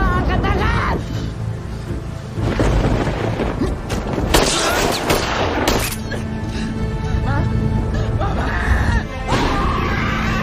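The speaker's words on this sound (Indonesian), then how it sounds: "Lalu dia melepaskan beberapa tembakan yang membuat Topan terluka." Several loud gunshots crack out at irregular intervals within a dense, noisy action scene.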